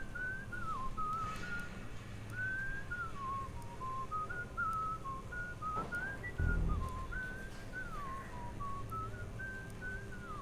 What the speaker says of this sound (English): Teach me to whistle.